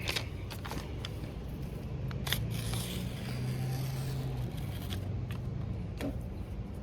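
Tint overlay film for a 10th-gen 2018-2022 Honda Accord headlight is cut, giving a steady soft rasping scrape with faint clicks under a constant background hiss, close and without speech.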